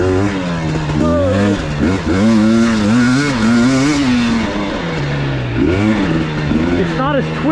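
A 2021 KTM 250 XC dirt bike ridden at Crow Canyon, its two-stroke engine revving up and down continuously, loud and close, with pitch rising and falling as the rider works the throttle.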